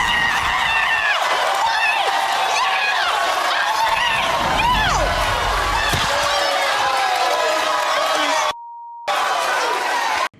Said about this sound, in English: This is my duck, Howard.